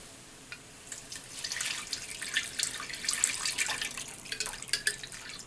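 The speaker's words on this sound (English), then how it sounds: "now I'm going to take the rest of my stock and it's going to get poured right on in" Chicken stock for brown gravy poured into a hot pan, a steady close liquid splash and gurgle that swells over several seconds with no voices.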